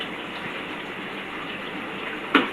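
Steady gush of tap water runs while a lunch box is washed in a home kitchen, a continuous broadband rush with a brief louder splash near the end.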